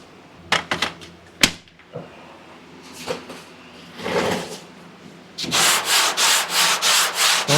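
Sandpaper on a sanding block works over a Datsun 280Z body with a few scattered, scraping strokes at first, then a run of quick, even back-and-forth strokes close up.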